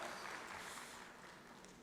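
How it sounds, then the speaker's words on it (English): An audience at the inaugural session of a national conclave applauds the Ahmedabad branch team, a dense, steady wash of clapping heard at a moderate distance and tapering slightly toward the end. "have a good round of applause for the team of Ahmedabad"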